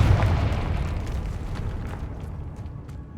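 Confringo fire spell explosion in the Hogwarts Legacy video game: a loud, booming blast at the start that rumbles and fades over about three seconds, with no speech.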